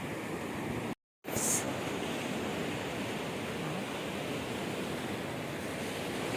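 Sea surf at high tide on the Isle of Wight shore, a steady broadband wash of waves rolling in close and loud, with a brief dropout near the start and no voices.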